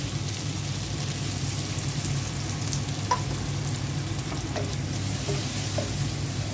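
Tomato cooking down with turmeric, chilli, cumin and salt in a pan for a rohu fish curry: a dense, steady sizzle close up with a few faint clinks of stirring, no talk.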